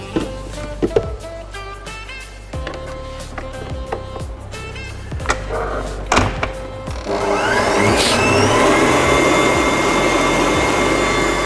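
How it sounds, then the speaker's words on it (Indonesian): An electric mixer beats chocolate mocha cake batter up close, a loud steady motor whir with knocking against the bowl, climbing to a higher, fuller drone partway through. "kita kocok kurang lebih lamanya 7 menit"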